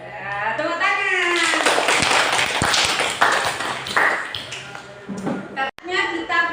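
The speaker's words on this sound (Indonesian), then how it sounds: "Tepuk tangan." Students clapping in an Indonesian classroom during a lesson, a burst of many hands clapping with scattered taps and shuffling, mixed with children's voices and talk, tapering off toward the end.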